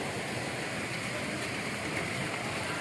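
Rain falls steadily in a continuous soft, dense hiss with no breaks and no talk.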